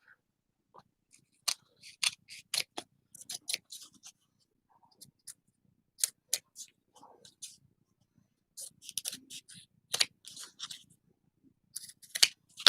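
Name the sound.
scissors trimming paper for DIY tickets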